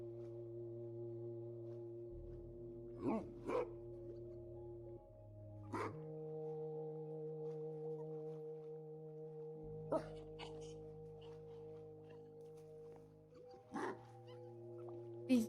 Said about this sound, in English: These dogs are making me annoyed. They're barking too loud.